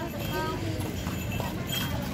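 Horse hooves clip-clop steadily at the Berastagi tourist area, where horse rides are offered, mixed into busy outdoor background noise with people talking nearby.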